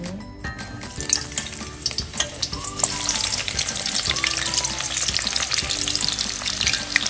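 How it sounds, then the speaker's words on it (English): Onions hit hot oil in a pot and sizzle steadily, with crackling spatter and the occasional scrape of a spoon stirring, close and continuous. "I'm going to add my onions into the oil."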